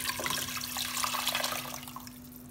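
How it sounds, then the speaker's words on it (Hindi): Water is poured steadily into a soup pot for a chicken corn soup, a close, rushing splash that runs continuously and eases off slightly toward the end, with a faint steady hum beneath. "इसमें मैं तकरीबन 2 जग के करीब पानी डालूंगी जी"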